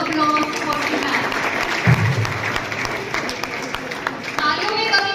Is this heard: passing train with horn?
no